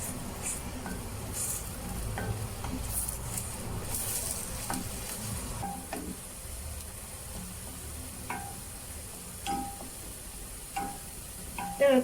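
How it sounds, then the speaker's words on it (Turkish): Onions sautéing in a pan for stuffed grape leaves in olive oil, a steady soft sizzle with occasional stirring clicks and scrapes, no talking. "Bunları şöyle güzelce kavuracağım."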